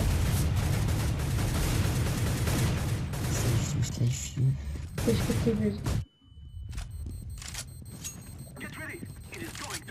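A booming bomb explosion in Counter-Strike: Global Offensive erupts amid loud game noise, then the sound cuts sharply and quieter game effects follow.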